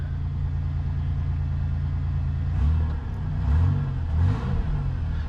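A 1991 Oldsmobile Ninety-Eight with a GM 3.8 engine runs steadily at a low rumble after a fuel pump fuse fix, then revs up briefly three times toward the end.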